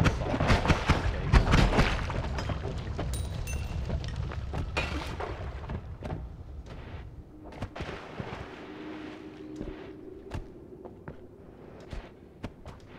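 Bombs blast in the game Noita, a loud rumbling burst of explosions up front giving way to scattered sharp cracks and pops that trail off fainter.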